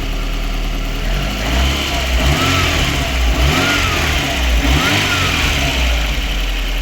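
A fuel-injected VAZ 2108 engine running close up with a steady rumbling idle, rising a few times in short revs before settling back.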